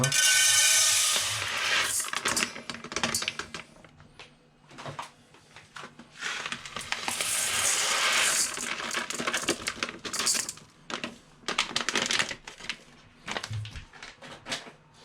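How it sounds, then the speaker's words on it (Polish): Two half-kilo bags of uncooked rice being poured into a pot for sushi rice, with rattling, hissing bursts of grains coming in uneven waves and short pauses between them, close and unaccompanied by talk. "Do naczynia wsypujemy dwie torebki ryżu po pół kilograma."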